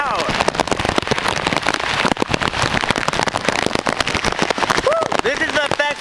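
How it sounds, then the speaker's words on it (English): Heavy rain and gusting wind of about 40 mph from Tropical Storm Fay making landfall near Daytona Beach, a loud dense steady roar close to the microphone throughout, with someone speaking over it. "The rain is definitely starting to come down. I don't know why I'm even out here, but wow, lots of heavy rain."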